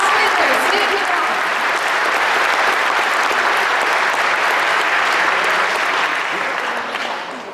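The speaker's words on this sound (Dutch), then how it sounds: "Thomas Peters, wielkie brawa." A hall audience at a Polish community award ceremony in the Netherlands breaks into loud, dense applause for an honoree, which holds steady and then tapers off at the end.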